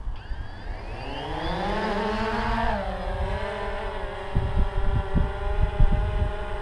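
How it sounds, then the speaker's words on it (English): A DJI Phantom 2 quadcopter's propellers spin up with a rising whine as it lifts off, then settle into a steady, close, droning hum with some low buffeting thumps near the end. "There we go, the propellers are spinning."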